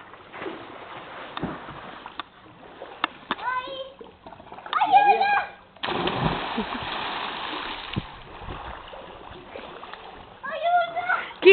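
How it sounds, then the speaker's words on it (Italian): Water splashes loudly as someone jumps into a villa swimming pool, with a big burst near the middle and more splashing toward the end, among children's excited voices. "Quando si butti te viene l'acqua perfino via."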